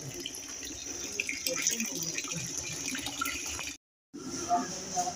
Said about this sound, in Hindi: जो अभी मतलब हाथी के सूंड से आपको पानी गिरता हुआ दिखाए हैं